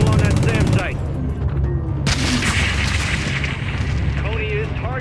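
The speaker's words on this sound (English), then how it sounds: "Gunner, drop a missile on that SAM site." A missile strikes a SAM site in the Call of Duty MW3 video game, a loud booming blast that lands midway through, over rumbling combat noise and radio chatter.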